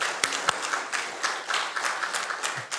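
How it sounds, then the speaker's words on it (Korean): Congregation applause during a church worship service, a moderate crowd of hands clapping in a loose, even patter with a few sharper claps standing out, heard from a slight distance. "하나님께 영광의 박수 올리겠습니다"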